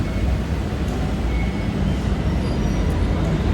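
Steady low rumble and broadband roar of a BTS Skytrain car on Bangkok's green line running along the track, continuous and fairly loud, with no talking.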